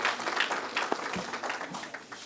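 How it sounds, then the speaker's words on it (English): Applause at an induction ceremony for new members, a soft, continuous patter of many hands clapping in a hall, heard from a distance and fairly quiet throughout. "Please, a round of applause for him."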